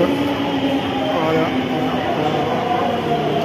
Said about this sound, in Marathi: आपली मेट्रो इकडे आलेली आहे